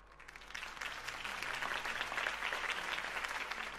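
A crowd claps steadily in Batman: The Telltale Series, a dense wash of applause that swells slightly and holds at moderate loudness throughout.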